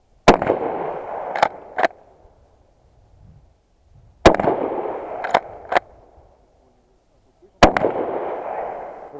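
Shotgun slugs fired at a row of targets on an outdoor training range, in three sharp loud reports spaced a few seconds apart, the first and second each followed quickly by two more blasts, with echoes trailing after each.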